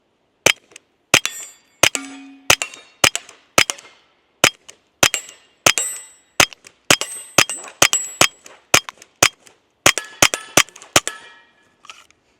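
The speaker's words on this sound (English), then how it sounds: "there's just something about a 22 pistol that is suppressed. That is just so fun to shoot." Suppressed Smith & Wesson M&P 22X pistol fired in a long string of sharp, crisp cracks, some in quick doubles, each decaying fast, with no talking.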